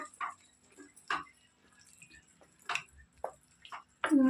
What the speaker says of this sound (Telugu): ఇది మిక్సీ కడిగేసేసి కొంచెం అంత పోస్తున్నాను వాటర్